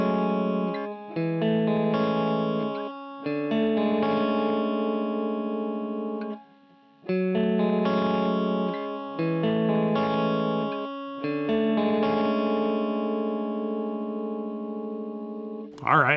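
Electric guitar runs through the S3 compressor of a Joyo Gembox multi-effects unit, playing even, sustained chord phrases with slight breakup, close and clean-sounding with short pauses between passages and no talking.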